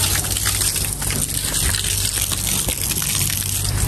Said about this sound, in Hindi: निकल रहा है ना पानी, कोई बात नहीं, अभी पानी मारने पीछे रामिन